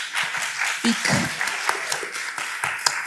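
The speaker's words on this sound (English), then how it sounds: "I want to make sure we give our panel of attorneys a round of applause" Scattered, modest applause from a forum audience on property after death, with individual claps standing out as a small crowd honors a panel of attorneys.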